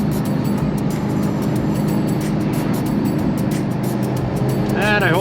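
A turbocharged Dodge Challenger SRT8 drones steadily from inside the cabin while driving, a constant low engine and road rumble with no distinct revving, close and even throughout.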